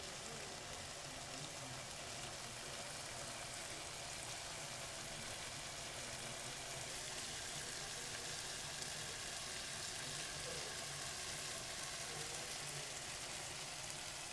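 Spicy pepper chicken sizzles in a pan on high heat, a steady hiss and fine crackle that holds evenly for about fourteen seconds, moderately close and alone without any talk.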